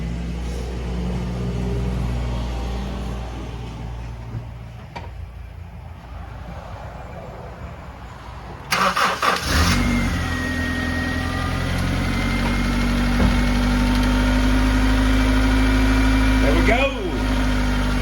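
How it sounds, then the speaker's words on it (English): A repaired Honda CR-V 2.0L engine, fixed for a P1382 cam sensor fault with a replaced distributor, cranks and catches around nine seconds in, then holds a steady, fairly loud high idle with a constant hum. "When you first start it up, it kind of idles a little high, and that's fine, then it'll quiet down."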